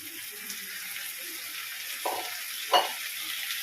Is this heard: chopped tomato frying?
yes